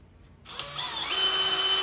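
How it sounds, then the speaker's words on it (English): Electric drill boring holes in a plastic rain barrel, the motor whining up suddenly after a quiet start and holding a steady, close, loud buzz as the bit cuts in. "I'm gonna take my drill and remove material that's within inside that"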